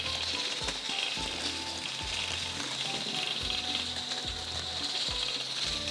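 Chicken kofta deep frying in oil, a steady close crackling sizzle throughout with faint rhythmic clicks and scraping underneath.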